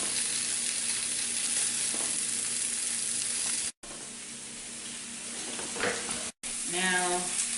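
Sausages fry in a pan with no oil, giving a steady close sizzle and hiss that runs throughout, briefly cut twice, with a few rising spitting bursts near the end.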